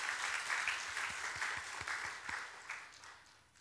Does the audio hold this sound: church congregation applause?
yes